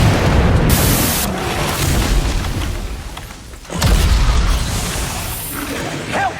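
A massive explosion in Monster Hunter World: Iceborne, fought against Fatalis, roars as sustained, loud booming blasts with a brief dip before a second heavy burst.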